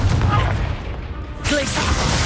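The Confringo blasting spell going off in the video game Hogwarts Legacy, a loud, dense burst of explosive crackle and booms. A short dip in the middle is followed by a second blast.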